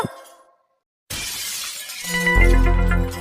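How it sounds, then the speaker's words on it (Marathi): Glass shattering indoors, with a sharp crash that falls into silence, then a bright, sustained spray of breaking and tinkling shards growing louder, with no talk over it. "कायचा काच फुटाचा आवाज आला कायचा काच फुटला"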